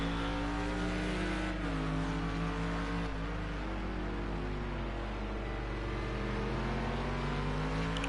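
The engine of a McLaren GT3 race car in a racing game drones steadily and close, its pitch rising and falling as the throttle is fed in gradually, with no talk over it.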